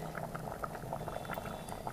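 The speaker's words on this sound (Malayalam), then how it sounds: "അപ്പോൾ നല്ലോണം തുള്ളി തിളക്കുന്നുണ്ട്" Sambar with drumstick boiling vigorously in a pot over a medium flame, a quiet continuous bubbling and popping at close range, faint and steady with no voices.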